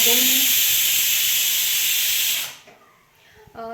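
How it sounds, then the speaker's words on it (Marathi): Loud, steady hiss of steam escaping from a pressure cooker whistle while cooking rice kheer, close up, cutting off abruptly near the end, followed by a brief quiet. "दोन शिट्ट्या आपण काढून घेऊया कुकरच्या"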